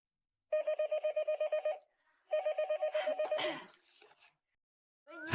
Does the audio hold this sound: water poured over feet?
no